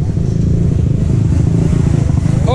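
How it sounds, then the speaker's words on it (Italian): Racing motorcycles, Talaria electric bikes and cross scooters at a Bergantino race, engines revving loud and close in a dense, continuous roar with clattering mechanical noise throughout. "Vedi che casino che fanno sti motori, mamma mia."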